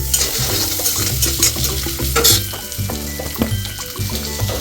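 Boiled potatoes fry with turmeric and salt in a pan, giving a dense, continuous sizzle under steady rhythmic background music, with no voices.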